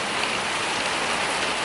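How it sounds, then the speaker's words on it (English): Steady outdoor rain falls as a dense, even hiss of drops on surfaces, continuous and fairly loud with no voices. "They can just stand out in the rain"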